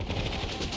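Enemy gunfire in the real-time strategy game Warzone 2100 crackles as a continuous rapid rattle of shots, dense and steady throughout without pauses.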